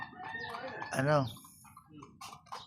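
A rooster crows once, loud and close, with backyard chickens clucking softly around it and a voice speaking briefly over the birds.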